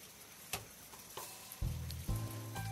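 Taiwanese radish cake slices set into light oil in a non-stick frying pan, faint quiet sizzling with a few soft clinks, then tonal electronic beeps near the end.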